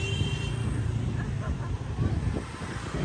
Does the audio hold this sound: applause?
no